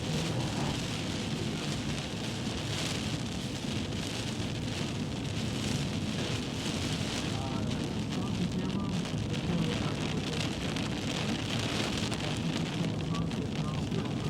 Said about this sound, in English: Very intense tornadic thunderstorm location.